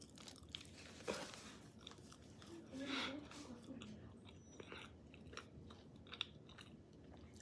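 Someone bites and chews crunchy Famous Dave's chicken tenders, with a few crisp close-up crunches and softer chewing between them, heard under quiet talk.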